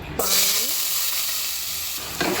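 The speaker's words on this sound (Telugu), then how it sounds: "ఆనియన్ కొద్దిగా ఫ్రై చేసుకోవాలా." Onion frying in hot oil in a pan, giving a loud, continuous close-up sizzle. A scraping stir comes early, and the hiss flares up again at the end.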